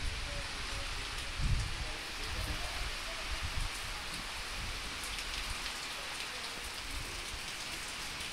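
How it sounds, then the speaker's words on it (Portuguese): Steady rain in Northeast Brazil patters densely on a surface, a constant hiss with occasional heavier drops close by. "Graças a Deus está chovendo."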